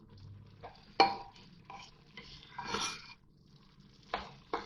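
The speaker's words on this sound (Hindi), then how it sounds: "मिल्क पाउडर डालने के बाद मैंने इसको मिक्स कर दिया है" Carrot halwa mixed with milk powder in a pot over a very low flame, giving scattered spoon scrapes and clinks against metal, a few sharp knocks and a longer scraping stir, with no talk.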